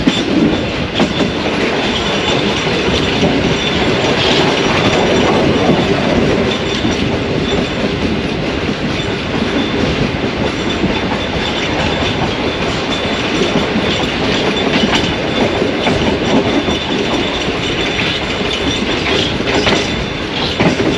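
Shah Hussain Express passenger train rolling slowly along the rails toward Landi Junction, a steady loud rumble of wheels and carriages with faint clickety-clack, continuous and close throughout with no talk.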